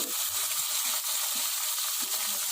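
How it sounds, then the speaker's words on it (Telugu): Cumin seeds and curry leaves frying in hot oil, making a bright, continuous crackling sizzle up close, with faint stirring knocks underneath and no speech. "తరువాత ఆ ఆయిల్లో జీలకర్రను, కరివేపాకును బాగా ఫ్రై చేసుకోవాలండి."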